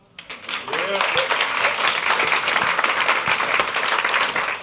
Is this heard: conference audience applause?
yes